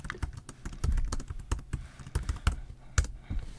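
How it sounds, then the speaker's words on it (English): Typing on the keyboard case of a OnePlus Pad 3 tablet: a quick, uneven run of crisp key clicks with short gaps, close and clear, with no talking. "Okay, nice keyboard clicks."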